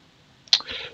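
Mouse clicks selecting a track in the new 2022 rFactor 2 interface: a short soft tick followed by a sharper, louder click, close and isolated, with faint hiss afterward and no talking.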